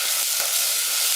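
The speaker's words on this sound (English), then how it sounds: "my pan is now sizzling" Lentil patties fry in a hot pan on a home stove, giving a steady, close, crackling sizzle with a constant hiss and no voices.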